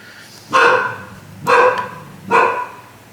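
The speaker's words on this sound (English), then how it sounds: "you can give your dogs a muzzle so they stop barking, Ponyo" A small dog barks three times at roughly one-second intervals, sharp and close, with short quiet gaps between the yaps.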